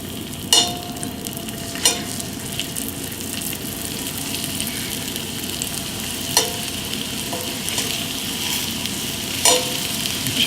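Floured chicken pieces frying in a hot pan of oil give a steady, close sizzle with occasional sharp crackles and pops, and no one talks.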